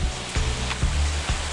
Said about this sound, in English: Not sure if you can tell, but it's raining.